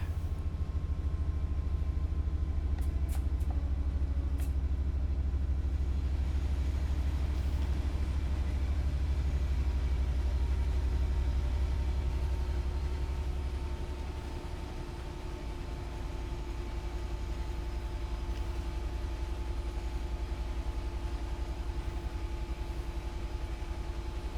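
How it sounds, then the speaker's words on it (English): A diesel engine on an LNER train runs at full throttle in the Train Sim World 6 video game, giving a continuous deep bass drone with steady engine hum, loud and unbroken, with no talking. "I do like the bassiness of the engine sounds at full throttle."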